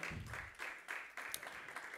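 Church congregation clapping in rhythm during a Spanish-language sermon, a soft, distant run of repeated hand claps in steady bursts.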